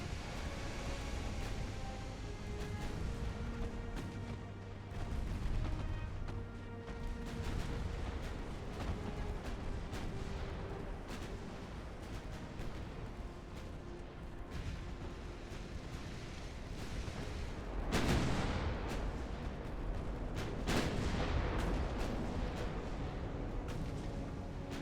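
Naval 9-inch guns firing in the Ultimate Admiral: Dreadnoughts warship game, a faint low rumbling bed of distant booms and engine drone, with a couple of heavier blasts standing out midway.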